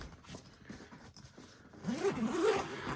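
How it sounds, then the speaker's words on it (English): Side zipper on a Peak Design 45L travel backpack being pulled open, a close scratchy rasp that builds and grows louder over its last second, with no talking. "See this side zip here?"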